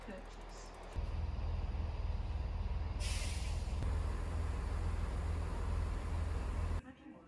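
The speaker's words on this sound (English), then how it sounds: "an Elizabeth line train turned up" An Elizabeth line train pulls into a station with a steady low rumble and rhythmic clatter, a sharp hiss of brakes or air briefly cutting in midway before the sound drops off.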